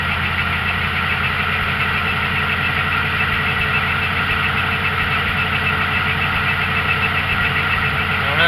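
A vehicle engine runs at a steady, unchanging pitch with its transmission failing to shift up. It is a continuous, close, even drone with a faint knocking vibration and no voices.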